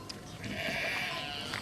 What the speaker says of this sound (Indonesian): Domba-domba itu mencoba kabur.